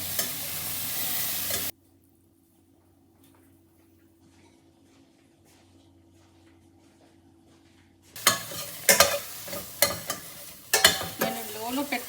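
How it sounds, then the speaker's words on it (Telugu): Two large tomatoes with half a tablespoon of salt frying in a pan for a capsicum masala curry: a loud sizzle that cuts to a near-silent hum for several seconds, then returns with busy scraping stirs. "సో నేను దీంట్లో ఒక 1/2 టేబుల్ స్పూన్ సాల్ట్ వేసుకొని ఫ్రై చేసుకుంటున్నాను"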